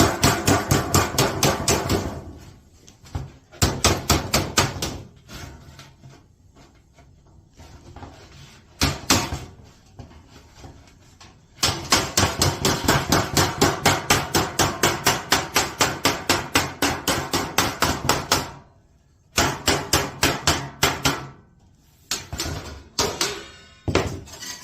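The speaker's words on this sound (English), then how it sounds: "take your regular hammer, and you're just going to beat that over." A regular hammer beats over the edge of HVAC sheet metal around a half-inch piece, with long runs of rapid, ringing metallic blows that come in close bursts separated by short pauses.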